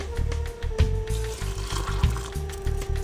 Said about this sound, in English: turn the heat off on the boiling liquid, and I will be pouring it into the jars